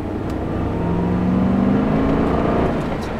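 A BMW M5 V8 accelerates from inside the car during a test drive, the engine's deep growl rising steadily in pitch and loudness through a gear before easing off, with no talking.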